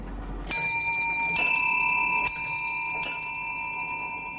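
Antique clock at Versailles, dating from 1706, chiming its music in clear ringing bell tones, four struck notes spaced about a second apart with long sustained decays, close and loud in a quiet room.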